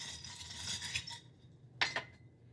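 Metal spoon stirring and clinking in a glass of whisky cocktail with mint and juice, a soft swirling rattle at first, then a couple of sharp clinks near the end, close and quiet.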